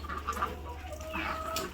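Chickens cluck and call in short, fairly faint bursts at a small poultry farm in Savar, Dhaka, on a rainy day, with steady low background noise underneath.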